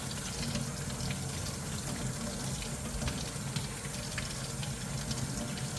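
Warm water runs steadily from a tap in a broad, continuous gush, loud and close, with no pauses and no voices over it.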